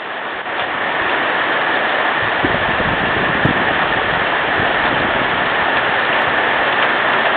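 Heavy rain pours steadily onto flooded ground at Palm Lake, a dense, loud, continuous hiss with no letup.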